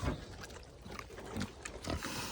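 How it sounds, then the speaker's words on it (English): Small foster piglets at an animal rescue grunt and oink in short, scattered bursts, fairly close and moderately loud, with a few brief louder squeals against a noisy background and no speech. "here are all the little foster piggies"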